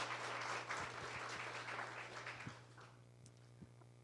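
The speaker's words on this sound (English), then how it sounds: "let's hear a big round of applause for our sponsors" Applause for sponsors at a community development event in Duluth, moderate and diffuse, fading toward the end over a steady electrical hum.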